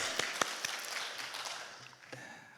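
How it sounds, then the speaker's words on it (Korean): A church congregation applauds: scattered sharp claps rise into soft, thin applause that fades over a couple of seconds. "우리 이 시간 하나님 앞에 영광의 박수 올려드립니다"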